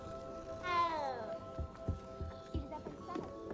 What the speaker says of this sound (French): Oh, le chaton encore!